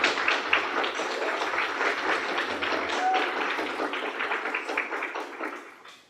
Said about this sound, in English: kids, you deserve to give yourself a very big round of applause